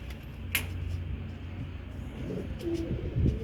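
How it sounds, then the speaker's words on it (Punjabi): A pigeon coos softly on a rooftop, low murmuring calls over a quiet outdoor background with a few faint chirps and light bumps. "ਫਿਰ ਉੱਚਾ ਹੋ ਗਿਆ ਕਬੂਤਰ"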